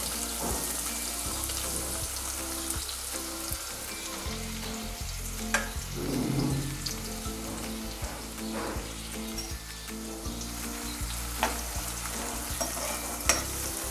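Onion fries in oil with cloves and cardamom, a loud, steady sizzle broken by occasional stirring scrapes and clinks.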